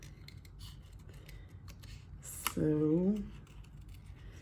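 Scissors snip along paper card in a fussy-cutting craft session, a quiet run of small clicks and rubs, then a brief voice cuts in near the end.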